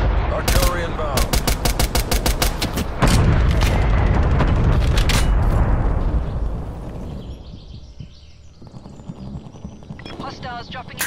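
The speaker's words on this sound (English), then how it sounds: "Artillery inbound." Artillery strike and gunfire in the Black Ops Cold War game: rapid bursts of automatic fire and heavy booming impacts up front, then a fading rumble with a few sharp shots near the end.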